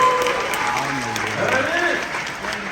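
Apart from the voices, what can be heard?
audience applause for volunteers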